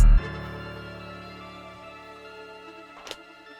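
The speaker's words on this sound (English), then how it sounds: "You put it all the way down and now it fades out and it sounds like this" A sustained tonal beat melody rings out after a thump and steadily fades quieter, with a brief soft knock near the end.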